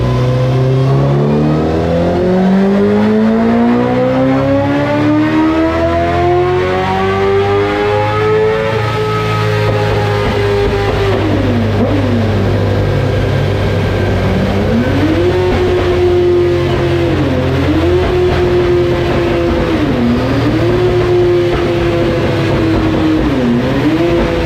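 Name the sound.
Honda CBR 1000 motorcycle engine revving on a dyno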